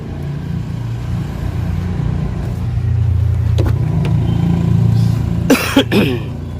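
The door of a second-hand Hyundai Creta SUV opens at a used-car market, with a couple of sharp latch clicks near the end over a steady low engine and road hum.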